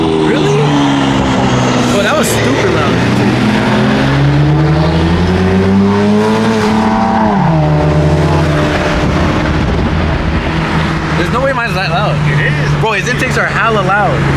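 A BMW G80 M3 fitted with carbon fiber intakes drives past loudly, its engine droning and rising and falling in pitch with revs, while people talk over it throughout.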